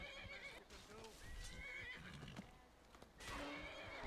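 A horse neighs and whinnies in the video game Skyrim, shrill rising calls alongside clip-clopping hooves and other game noise, with a voice speaking in the background.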